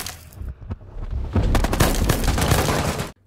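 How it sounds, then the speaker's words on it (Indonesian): Rapid bursts of gunfire, a quick volley of loud shots following a few scattered pops, then cut off abruptly. "Kemudian Andy dikejutkan oleh sebuah tembakan yang hampir aja mengenainya"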